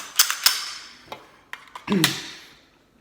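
An FNH FNX pistol is handled during a safety check with an empty magazine, giving sharp metallic clicks and a slide rattle at close range, with a few softer mechanical knocks between them.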